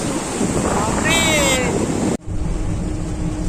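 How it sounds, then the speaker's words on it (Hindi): A strong, swollen river rushes under the Mundali bridge in steady, loud broadband roar, with wind buffeting the microphone throughout and a brief whistling tone midway before a short dropout. "प्रबल पानी हेछि एठी।"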